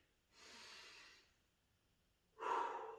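Two deep breaths during a gentle gym exercise session: a soft, airy inhale followed after a pause by a louder, closer exhale, with no talking.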